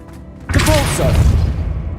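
A spell cast in Hogwarts Legacy erupts as a sudden whooshing boom with a deep thud, striking after a brief quiet and trailing into a rumbling tail with faint game ambience beneath.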